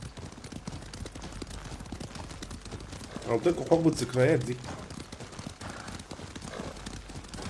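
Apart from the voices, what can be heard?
horse hooves while riding, from a video game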